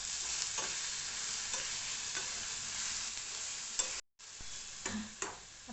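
Onion-tomato paste for chole curry sizzles steadily in a pan over a low flame, with soft stirring scrapes near the end and a brief dropout just after four seconds.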